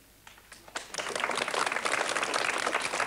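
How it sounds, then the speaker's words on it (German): A studio audience at a 1983 ZDF holiday children's programme breaks into applause, starting with a few scattered claps and swelling quickly into full, steady clapping. "Ihr seid so gut mit dem Applaus heute"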